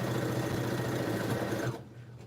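A sewing machine stitches a Friendship Star quilt block in a close, loud, steady mechanical whir that runs continuously and then stops abruptly near the end.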